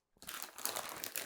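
A crisp crunch of Max Crisps being bitten and chewed, close and fairly quiet, starting after a moment of silence and continuing as a dense crackly crunch for about a second.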